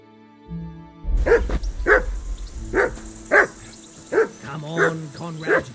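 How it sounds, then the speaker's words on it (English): A dog in a video game barks repeatedly in short, loud, evenly spaced woofs, about eight of them after a brief quiet lead-in with low background music. "Whistle at that mutt of yours to stop barking."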